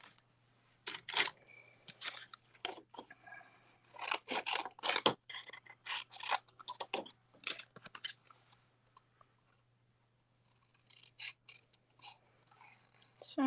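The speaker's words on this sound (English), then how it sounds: "I'm just going to fussy cut." Scissors cut a stamped, emboss-resist paper panel by hand: close, quiet snipping and rustling in irregular bursts, with brief pauses and no talk.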